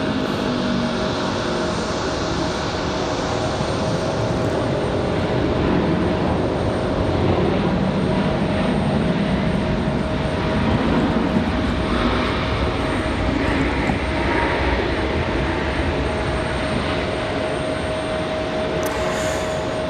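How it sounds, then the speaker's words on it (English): FedEx Boeing 767 heavy jet departing Raleigh Durham airport, a loud continuous engine roar with a steady whining tone running through it, holding even for the full length without talk. "All right, FedEx, the 767, heavy, number 2. This one back to Memphis."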